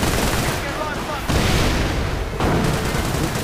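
Mortar fire and gunfire ring out in a World War II strategy game battle, a dense, loud barrage of booms and crackling shots with a couple of sharp surges.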